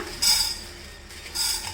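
A spoon scrapes and rattles through dry spices such as mustard seeds roasting in a hot pan for gongura chutney, in two brief stirring strokes, close and fairly loud.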